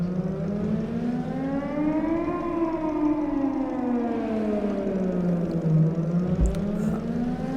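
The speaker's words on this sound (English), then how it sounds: "I heard this siren from my apartment in Bright City every once in a while." Loud wailing warning siren from the video game Titan Chaser, a continuous tone sweeping up and falling back in long slow cycles, heard alone.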